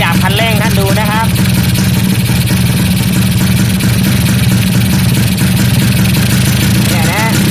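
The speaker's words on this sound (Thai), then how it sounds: "ตอนนี้เครื่องยนต์เดินเบาอยู่ประมาณนี้นะเดี๋ยวครูจะเริ่มขยับคันเร่งท่านดูนะครับ" A Kawasaki GTO 125 two-stroke motorcycle engine idles loudly and steadily up close, with someone talking over it throughout.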